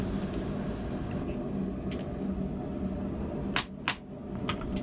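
A blacksmith's hammer strikes half-round tong stock in a swage block depression: two sharp, ringing metallic blows in close succession rise above a steady shop rumble, with a few fainter clinks around them.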